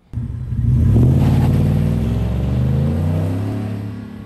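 A lowered 2021 Ford F150 Covert Edition XLT crew cab on 24-inch wheels revs through a MagnaFlow exhaust, giving a loud, deep rumble that swells quickly and then holds steady at close range with no talking.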